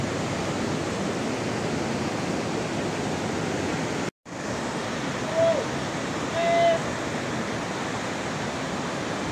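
Clear river water flows steadily in a wide, even rush close by, with a brief dropout near the middle and a couple of faint higher tones over the flow.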